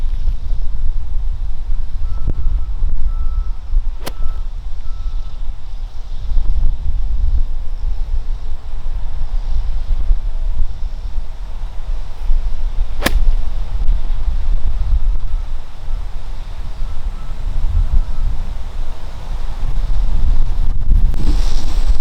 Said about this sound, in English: we definitely have a lot of wind we're dealing with today